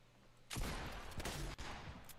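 A heavy shotgun fires in a shooter video game, a sudden loud blast with a booming tail and a second crack shortly after, with no talk over it.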